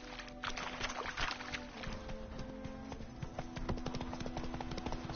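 Roach the horse trotting in The Witcher 3: Wild Hunt, hooves clip-clopping in a steady, close rhythm throughout over a faint ambient bed.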